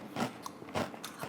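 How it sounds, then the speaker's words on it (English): Three sharp crunchy bites into crisp chips, close and loud, each burst followed by brief crackling chewing, with no talking. "And that's a decent crunch."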